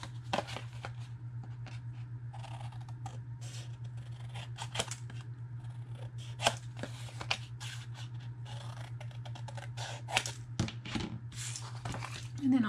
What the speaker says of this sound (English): let me bring in my scissors and just let me cut through.